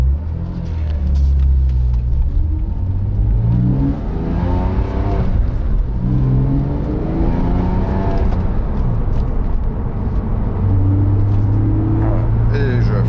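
A car with brake pads fitted without anti-noise shims drives at low speed and brakes, giving a steady engine and road rumble throughout, with a person talking over it and no clear brake squeal.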